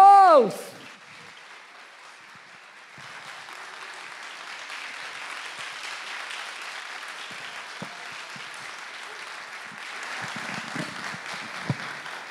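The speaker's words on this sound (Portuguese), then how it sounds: "uma salva de palmas para os nossos astros!" An audience at a stage hypnosis show breaks into sustained applause after a short spoken cue, a continuous wash of clapping that builds slightly toward the end and carries on for over ten seconds.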